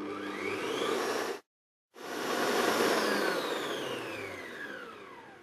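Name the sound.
electric stand mixer whisking egg whites to stiff peaks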